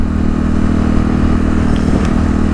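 A 2018 Kawasaki KLX351 EFI dirt bike on a 0-60 mph acceleration run gives a loud, steady, close engine drone that holds throughout, with no voices.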